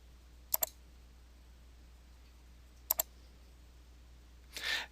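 Two quick double clicks of a computer mouse, crisp and close, spaced a couple of seconds apart in a quiet room, followed by a brief soft rustle at the end.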